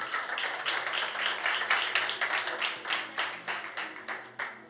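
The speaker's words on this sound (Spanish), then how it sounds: "Un aplauso para ellos." An audience claps steadily for several seconds at a gathering, a dense patter of many hands that is fairly close and fades slightly toward the end, with no talking over it.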